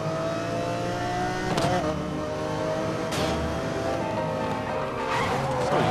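Engine roars from a car driving in the Need For Speed Most Wanted 2 video game, revving and rising in pitch with several gear shifts and brief tire squeal, loud and continuous.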